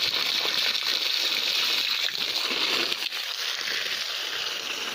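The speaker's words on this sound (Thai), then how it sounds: "รอดูน้ำออกแป๊บนึง" Water gushing steadily out of a hose onto soil around a young banana plant, a continuous close rushing and splashing with no breaks or speech.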